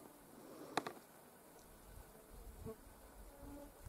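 Faint, high-pitched whining of many mosquitoes buzzing around in a quiet, windless, sunny pine forest.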